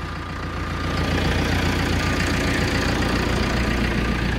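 A 1954-55 Massey Ferguson tractor engine idles steadily at close range, a low continuous rumble with a faint knocking texture that holds the same level throughout.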